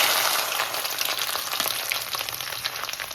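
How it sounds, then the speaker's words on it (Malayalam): Chopped ginger frying in hot oil for a bitter gourd dish, a steady, close crackling sizzle with sharp spits throughout, no talking. "ഇനി അരിഞ്ഞു വെച്ചിരിക്കുന്ന ഇഞ്ചി ഇടാം."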